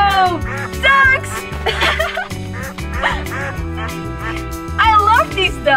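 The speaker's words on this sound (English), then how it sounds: "I love these ducks!" Cartoonish duck quacks in a playful animated scene, repeated and chattering over a bouncy music bed, loud and close, with voices mixed in.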